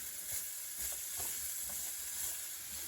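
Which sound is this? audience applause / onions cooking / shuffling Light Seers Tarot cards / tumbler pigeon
onions cooking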